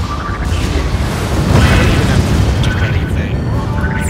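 Automatic turret guns firing during a battle in the strategy game Spore, a dense continuous roar of booms and bursts with a voice talking over it.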